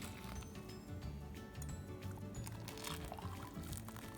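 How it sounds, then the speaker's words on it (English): Boiling water is poured steadily into a bowl of sand, flour and salt for play mud, a faint, continuous splashing trickle at close range. "adding 3 cups of boiling water"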